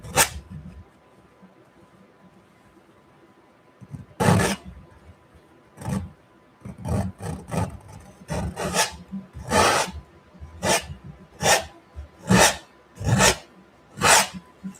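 A palette knife scrapes leftover oil paint off a palette during an oil painting session, giving a run of short rasping strokes, about a dozen close scrapes in an uneven rhythm with brief pauses between them, heard alone.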